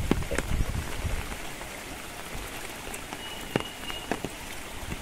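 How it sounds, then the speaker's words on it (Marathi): Floodwater rushes along a stream during Konkan monsoon rain, making a steady, moderately close wash of water with scattered drip and splash sounds and no voices. "हे बघा पाणी कसं वाहतं आता बघा इकडे."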